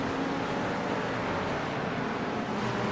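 A race car in the iRacing video game on the Barcelona circuit runs steadily, a continuous muffled engine and road rumble at moderate level with no clear shifts.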